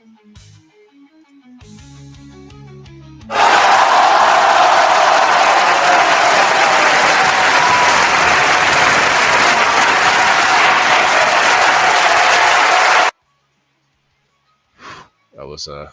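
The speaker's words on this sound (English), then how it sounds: "That was a hell of a crowd." A crowd cheering and applause sound effect bursts in loud and dense for about ten seconds, then cuts off abruptly, with brief voices and other sounds before and after it.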